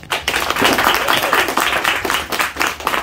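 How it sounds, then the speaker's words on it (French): An audience applauds a drag performer at a drag show, a loud, dense burst of many hands clapping at once that swells and continues throughout, with no voices over it. "s'il vous plaît on applaudit"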